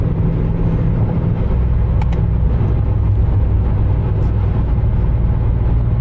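A car engine held at wide open throttle in fifth gear in manual mode gives a loud, steady, unbroken drone that stays close and constant throughout, with no voices.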